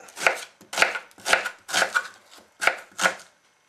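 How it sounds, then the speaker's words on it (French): Knife chopping onion and celery coarsely on a cutting board for a Vietnamese noodle soup, about seven crisp, evenly spaced thuds close up with nothing else heard. "on détaille ça très grossièrement, comme l'oignon."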